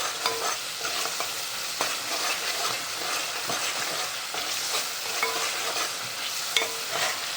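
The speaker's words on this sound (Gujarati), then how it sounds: "આવી રીતના મસાલો પાકવાનો છે, ઢાંકવાનો નથી, ફેરવતા રહેવાનું" Spice masala fries and sizzles in a pan with a steady hiss while it is stirred, with intermittent scraping knocks of the spoon across the pan throughout.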